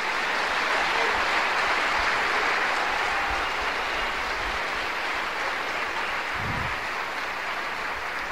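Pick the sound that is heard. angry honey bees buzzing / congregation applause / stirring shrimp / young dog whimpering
congregation applause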